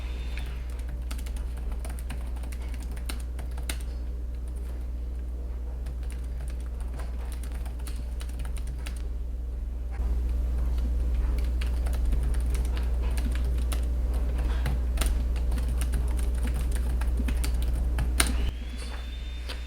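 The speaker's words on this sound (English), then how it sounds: "we'll give this a quick typing here, see how it feels" Fingers type quickly on the keyboard of a 2024 ASUS Zenbook S16 laptop with a Ryzen AI HX chip, producing a steady stream of light, snappy key clicks up close over a low background hum, with no talking.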